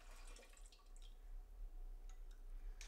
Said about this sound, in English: let's go ahead and pour that back in.